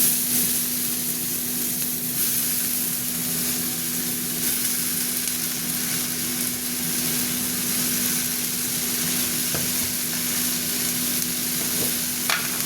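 Kalmi greens with onion and turmeric, cooked with pumpkin, sizzling in a pan: a steady, continuous frying hiss that stays even throughout, with no talking.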